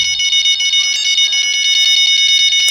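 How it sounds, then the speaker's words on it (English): Electronic bite alarm beepers from the Fishing Planet fishing game at Falcon Lake, Oregon, sound a continuous shrill, high-pitched chirping tone throughout, loud and steady with faint pulses layered in. "sorry about the noise on the beepers."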